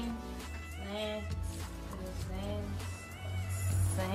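A cat meows several times close by, its cries rising and falling over steady background noise while people talk in Portuguese.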